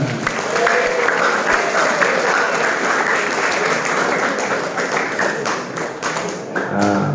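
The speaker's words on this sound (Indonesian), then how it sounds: "Palalin terima tepuk tangan" Steady, full applause rises from the audience at a Ramadan sermon in an Islamic boarding school, a dense wash of many hands lasting throughout without any speech.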